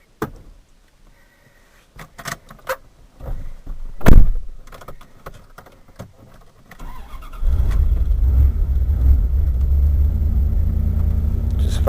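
Car door and interior clicks and knocks give way to an engine cranking and catching on gasoline, then a steady close idle rumble that holds to the end.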